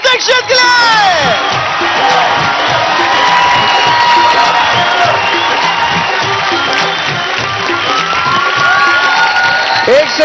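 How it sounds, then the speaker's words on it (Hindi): Loud applause and cheering from a studio audience at a televised dance show for Madhuri Dixit, dense clapping with whoops and shouts sustained throughout without a break. "जोरदार तालियां हो जाए माधुरी दीक्षित के लिए"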